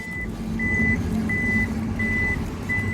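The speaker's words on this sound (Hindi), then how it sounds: "क्लोज़ करना हो तो इसको आप वन टच क्लोज़ कर सकते हैं।" Electronic tailgate of a Maruti Invicto Alpha Plus closing, with a steady series of five evenly spaced warning beeps over a low mechanical hum, close and fairly loud with no talking.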